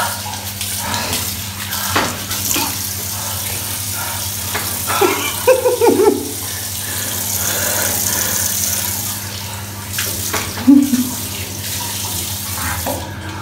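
Tap water runs steadily into a sink while someone rinses stinging eyes after eating an extremely hot chip, with splashes and intermittent bumps and a few brief vocal sounds over the flow.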